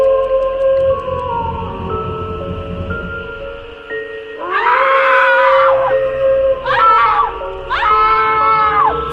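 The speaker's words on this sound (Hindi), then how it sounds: "तभी राहुल को एक लड़की की चीख सुनाई देती है।" A girl's scream sound effect in a Hindi horror story set in a cursed forest, three loud shrill bursts over an eerie droning backdrop.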